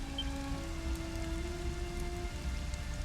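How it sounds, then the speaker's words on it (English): Steady rain falls in Dragon Quest XI, a continuous even hiss of drops on surfaces that lasts throughout with no voices. "Oh, it's Just raining"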